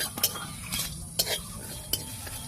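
Dry coriander seeds and whole spices rattle and scrape in a hot pan as a spoon stirs them in a few quick strokes, with a soft sizzle underneath.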